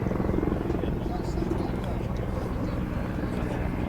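A Czech Air Force Mil Mi-24V helicopter performs a flying display at the RAF Fairford air show, its rotor and engines giving a loud continuous throbbing roar throughout, with a commentator talking over it.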